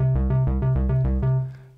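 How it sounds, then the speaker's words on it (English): A low marimba patch on a DRC synthesizer with reverb, playing a quick repeating run of deep, mellow plucked notes that ends on a held note fading into its tail. "we got our low marimba here"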